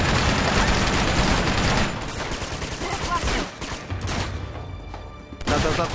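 Continuous heavy automatic gunfire from a machine gun turret in Uncharted 2: Among Thieves roars for a couple of seconds, then breaks into scattered bursts and shots amid game action noise.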